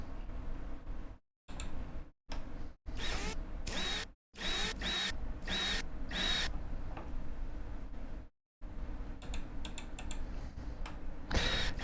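Rover Mechanic Simulator game audio of many screws being removed: a run of mechanical ticking and whirring bursts from a virtual screwdriver, broken by short silent gaps, moderately loud and without talk.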